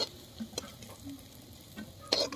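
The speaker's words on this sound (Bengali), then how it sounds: "গাজরটা এখন ভাজা হয়ে গেছে প্রায়, তো গাজরটা তুলে নেওয়া হবে।" Carrots frying in a pan for fried rice give a soft, faint sizzle, with a few scattered scrapes and taps as they are stirred, ending in one sharper clink near the close.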